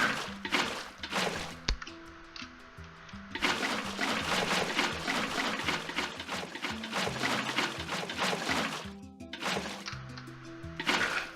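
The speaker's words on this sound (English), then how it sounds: "don't forget to pour water on that, on every layer" Water poured in the Minecraft video game, a continuous rushing, trickling flow lasting several seconds, bracketed by shorter splashy bursts, with no talk.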